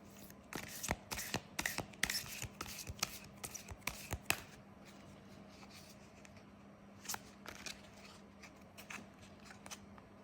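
Cards are shuffled close by in quick, crisp riffling bursts, pausing and resuming with softer flicks toward the end.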